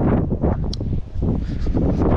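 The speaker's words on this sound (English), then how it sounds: "Really, really windy." Strong gusts buffet the microphone outdoors during a walk with a dog, heavy low rumbling wind noise that surges and dips in loud bursts, close and dominating.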